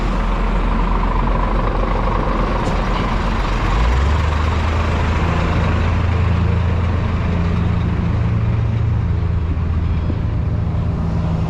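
A six-wheel truck backs up while hitching a trailer during sand hauling, its heavy diesel engine rumbling steadily and loud throughout, with the low drone deepening and rising partway through.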